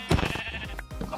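A sheep in the Minecraft video game gives a single loud, close bleat with a wavering, nasal quality, alone and lasting about a second.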